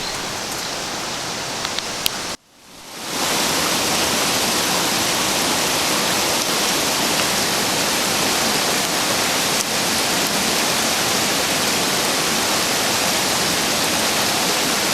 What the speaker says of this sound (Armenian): ստեղ է մաքուր խմելու ջրի աղբյուրը